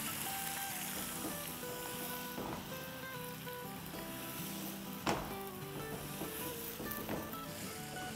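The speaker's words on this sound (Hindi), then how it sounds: "तब इसमें हम मैरिनेटेड गोश्त डाल देंगे। अब इसे हाई फ्लेम पे ही भूनेंगे।" Marinated mutton fries in a pan on high flame for a Bihari masala mutton curry, a steady moderate sizzle with an occasional clack of a spoon against the pan, heard alone.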